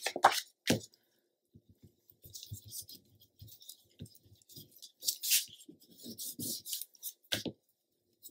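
A paper score line being burnished by hand in a papercraft album build, soft close rubbing and scraping strokes in short irregular bursts, quiet and crisp with brief pauses between passes.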